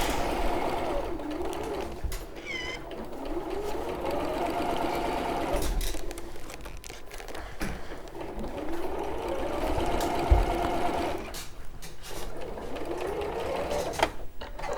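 A sewing machine stitches quilt fabric layered over plain backing fabric, whirring in sustained close runs with brief pauses and shifts in speed. No one speaks.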